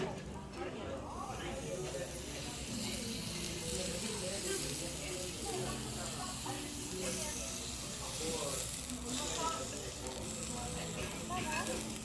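Onions and mushrooms fry in a pan, giving a dense, even sizzling hiss that runs steadily throughout with faint crackles, and a voice is heard speaking under it.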